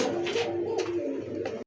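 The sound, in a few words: Bombay pigeon cooing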